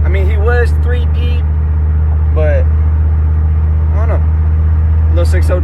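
A 6.0 LQ9 Z71 truck engine drones loud and steady from inside the cab, with voices speaking in short bursts over the continuous low rumble.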